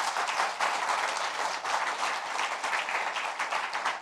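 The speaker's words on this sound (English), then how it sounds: "Let's clap for her once more time" An audience at a talk show applauds in a sustained, even round of clapping that fills the room for several seconds without a break.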